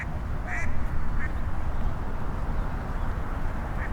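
Ducks quacking in a city park, a few short quacks scattered over steady outdoor rumble and wind noise, moderately close.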